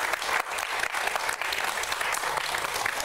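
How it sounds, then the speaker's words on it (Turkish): A TV studio audience gives continuous, dense applause, a steady mass of clapping with slight fluctuations and no clear voices over it. "Kocaman bir alkış."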